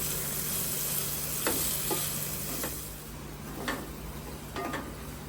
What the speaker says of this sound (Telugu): ఉల్లిపాయ ముక్కలు బాగా వేగాలండి బ్రౌన్ కలర్ వచ్చేంత వరకు వేయించుకోవాలి